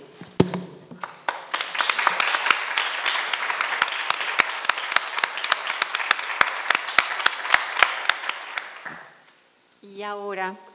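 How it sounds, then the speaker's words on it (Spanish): An audience at a Spanish-language talk bursts into sustained applause with sharp individual claps standing out over the dense crowd clapping, fading near the end before a voice begins speaking. "lo primero que voy a hacer es un aplauso para ustedes"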